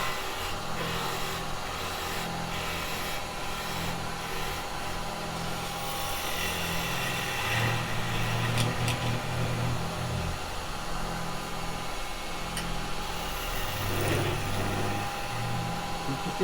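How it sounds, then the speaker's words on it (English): A small pointed spindle gouge cuts the end of a wooden mallet spinning on a lathe, a steady motor drone with rough scraping and chattering bursts that swell and fade as the tool engages the wood. "I'm just going to go to a small spindle gouge with a nice little pointy bit"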